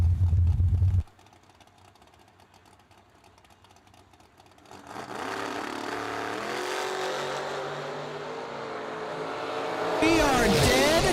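Drag race cars roar off the starting line at an old school bracket race, engines building into a loud, rising sustained howl after a brief quiet stretch, with a track announcer talking over the noise.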